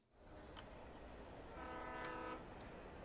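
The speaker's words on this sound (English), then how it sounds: "I think that is the train." A train in the video game Alan Wake rumbles steadily in the distance, its low rolling noise swelling slightly midway with faint tonal horn-like traces, quiet and with no talk.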